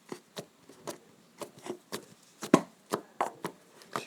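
Green slime is poked and squished, giving a series of soft, wet clicks and pops at an uneven rhythm, close and fairly quiet.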